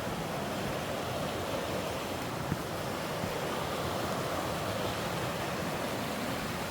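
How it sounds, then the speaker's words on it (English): A river flows steadily beside a rooty hiking trail at Cloudland in Georgia on a cool day, making a continuous, even rush of water with no talking. "then we go along this river"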